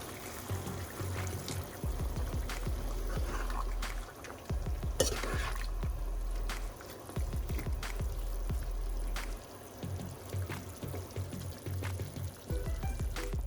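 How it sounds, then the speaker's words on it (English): Boiling water is poured into a pot of one-pot Indian-style chicken curry that is frying over a medium flame, bringing a wet sizzle and stream with repeated stirring scrapes in a steady rhythm. "A bit of boiling water."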